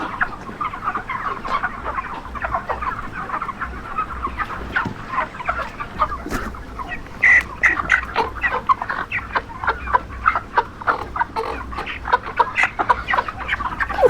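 A crowd of 45-day-old broiler chickens, about 10,000 birds, clucks and squawks continuously, a dense chorus of overlapping calls with sharp bursts throughout.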